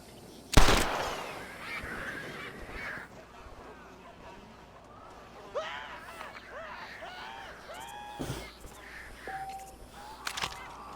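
Birds flushed and taking off in the Red Dead Redemption video game, with a sharp burst near the start, scattered honking and squawking calls, and a few later sharp cracks, all moderately close.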